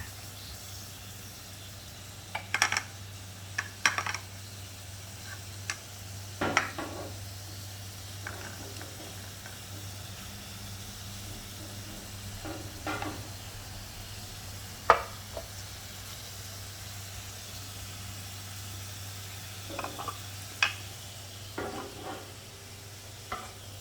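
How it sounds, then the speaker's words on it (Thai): Beef marinated in brown sugar barbecue sauce stir-fries in a pan for kebab, with soft continuous sizzling under repeated scraping strokes of a spatula, close up and steady, with a low hum behind it. "ผัดผัดไปเลยค่ะ เนื้อนะคะเขาใช้บราวน์ชูการ์บาร์บีคิวในการหมักค่ะ"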